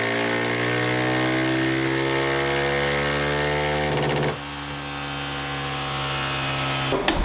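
A 2020 KTM 690 SMC-R motorcycle with an aftermarket exhaust and Power Commander runs on a Dynojet dyno, its engine holding a steady, buzzing harmonic drone that dips in pitch partway through, climbs again, then cuts off abruptly.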